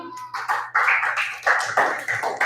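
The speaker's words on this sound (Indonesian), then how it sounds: "kalau sudah kita kasih tepuk tangan dulu" A classroom of students gives applause after a group presentation, with bursts of clapping coming in uneven waves under a low steady hum.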